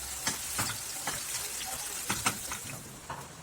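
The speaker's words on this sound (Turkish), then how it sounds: "Yemeğimizin köftelerini çok hafif kızartıyoruz." Meatballs fry lightly in a small amount of oil in a pan, a faint steady sizzle broken by soft intermittent pops and crackles.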